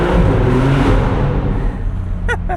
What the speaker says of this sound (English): It sounds really aggressive for being a 6-cylinder, like really aggressive.